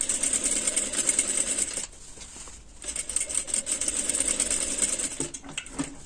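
A sewing machine stitches along the top of a garment sleeve with a steady, fast mechanical patter, pausing briefly midway before running on again, close and clear with no talk.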